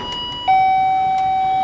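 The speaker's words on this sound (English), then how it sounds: "the door does its little chime?" Entry chime at a 7-Eleven convenience store door: a single steady electronic tone that starts about half a second in and holds clear and loud to the end, over faint room hiss.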